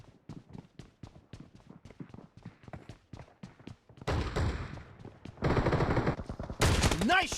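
Shooter video game gunfire: a rapid run of sharp single shots, then louder sustained bursts of automatic fire up close, with game voice callouts over the later bursts.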